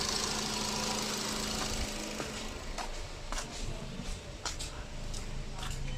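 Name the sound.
Nissan Sunny engine revving during intake system flush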